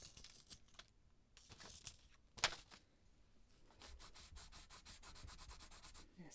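A pencil being sharpened while sketching fashion designs: quiet, scratchy grinding strokes in short bursts, with one sharper click, close and faint.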